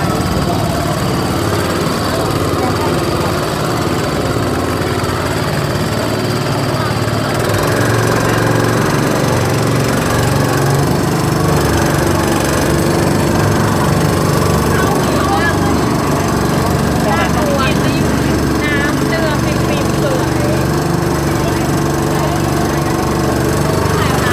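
A boat engine drones loudly and steadily nearby, a constant rumbling hum with no break.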